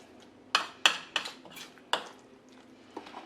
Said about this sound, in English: If you notice that there's stuff on the sides here, all you gotta do is scrape that down a bit